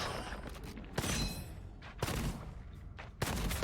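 Gunfire from the first-person shooter Gunfire Reborn: a few loud, sharp shots spaced about a second apart, each with a short crackling decay, over a steady game background with no talk.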